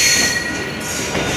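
A train runs on rails nearby, a loud steady rumble with high metallic wheel squeal throughout a brief stretch.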